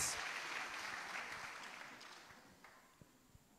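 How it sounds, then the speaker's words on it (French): A congregation applauds at a Christian testimony gathering, dense clapping that starts strong and gradually thins and fades over a few seconds. "clap for the Lord"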